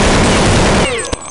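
Rapid automatic gunfire in Counter-Strike 1.6 on the Inferno map, a loud continuous burst of shots close up that cuts off, followed by a single sharp shot.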